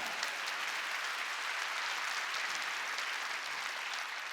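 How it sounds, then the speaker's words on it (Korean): A church congregation applauding during a Sunday worship service, producing continuous, even clapping from a large crowd that holds steady without a break. "박수 세게 치라고요"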